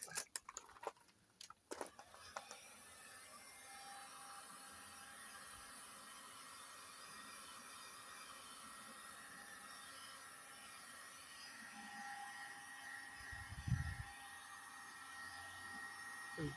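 A heat gun blows steadily onto the pushed-in bumper panel of a VW T5 2.5 TDI van, a constant fairly quiet airy whir that holds for most of the stretch, with a brief low thump near the end.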